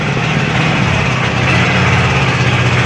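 A 2021 Hero HF Deluxe motorcycle with i3s idles steadily just after starting, its engine giving a loud, even, continuous hum and putter with no revving.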